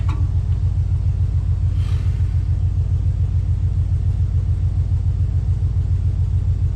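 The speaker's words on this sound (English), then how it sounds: "Still not enough to crank this baby over properly." A 1962 Chevrolet C10 engine turns over weakly on the starter, a steady low rumbling churn that keeps going without catching, with a brief brighter rasp early on.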